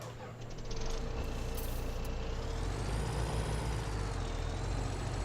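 A truck in Farming Simulator 17 idles loudly with a steady low engine drone. An air-brake hiss starts it off, and a faint engine whine rises in pitch partway through.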